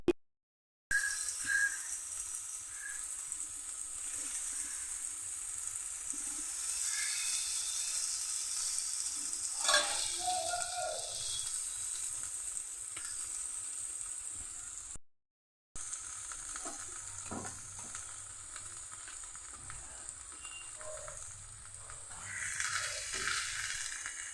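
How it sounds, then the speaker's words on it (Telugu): Bread toasting in ghee on a pan makes a steady, moderate sizzle that goes on for a long stretch, with occasional scraping and stirring noises and two brief gaps. "బ్రెడ్ అయితే పాన్ పైన ఇలా కాల్చుకోవాలి నెయ్యి వేసుకొని"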